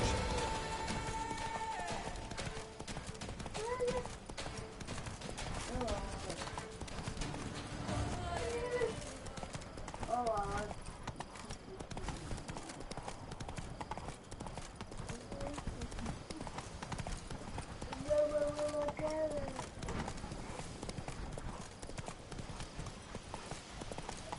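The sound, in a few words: horse Roach galloping, hooves clip-clop, video game The Witcher 3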